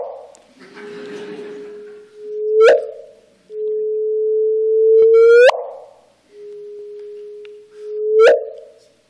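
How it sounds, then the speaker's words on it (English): Three gravitational wave signals from binary black hole mergers, pitch-shifted up, each a steady tone that sweeps abruptly upward into a sharp chirp, with short gaps between them. "you're looking at binary black hole mergers there"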